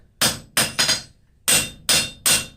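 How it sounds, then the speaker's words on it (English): A hammer planishes forged steel pickup tongs on an anvil, six sharp ringing metallic strikes in an uneven rhythm, two quick blows then pairs spaced apart, loud and close with no voices. "you're just cleaning up the surfaces to planish it out so it looks nice"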